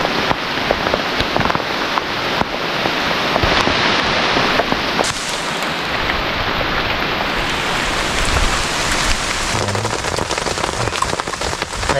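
Heavy storm rain pours down in a forest, a loud, dense and unbroken roar of drops hitting surfaces. Gusts of wind are mixed into the downpour and it continues throughout.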